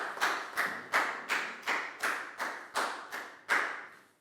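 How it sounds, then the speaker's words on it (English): Classroom applause for a student: about ten hand claps in a steady, even rhythm, close and clear with a sharp slap on each clap, with no talking over them. "High five and a big round of applause for Lackow"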